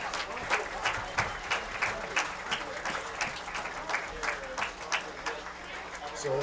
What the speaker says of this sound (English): Join me in a big round of applause for a great bowling team at Wahoo State Bank.